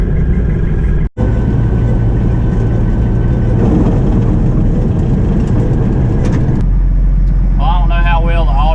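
A combine harvester runs loud and close during a soybean harvest, with a failing bearing somewhere around the feeder house. The heavy drone has a brief cutout early on and a shift in tone near the end, where whining tones appear.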